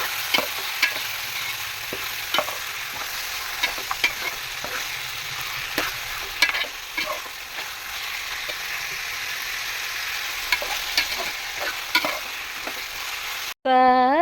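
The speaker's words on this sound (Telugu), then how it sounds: "ఇప్పుడు మనం బాగా ఫ్రై చేస్తాం." Chicken frying in a pan for a mild biryani-style chicken curry, with a steady broadband sizzle and repeated scraping stirs throughout, close and fairly loud, ending in a brief burst of other sound.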